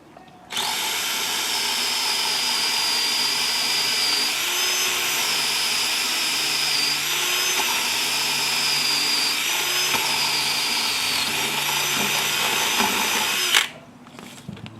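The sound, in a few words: power drill drilling through a fence post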